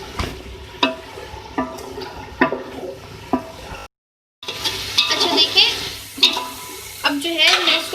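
Chicken masala with yogurt and salt fries in a pot for chicken pulao, a close, loud sizzle with stirring scrapes and knocks, briefly cut to silence midway before returning stronger.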